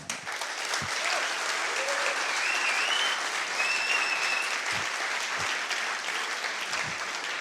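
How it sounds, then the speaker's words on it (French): Sustained audience applause at a company keynote event, a dense steady wash of many hands clapping at even loudness throughout, with faint scattered voices and a few isolated thuds. "Ça mérite des applaudissements, ça."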